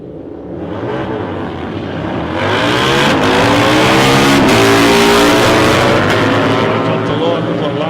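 Harley motorcycles at South Coast Raceway accelerating hard down the drag strip, a loud rising engine roar that swells and holds close by, with voices speaking underneath.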